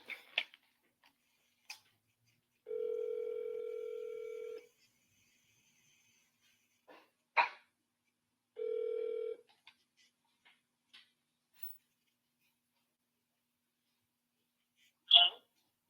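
An outgoing phone call, with two long electronic ringback tones, each a steady buzzing beep, separated by a pause and preceded and followed by faint clicks, taps and brief background noises.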